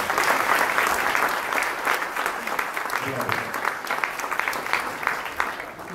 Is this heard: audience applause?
yes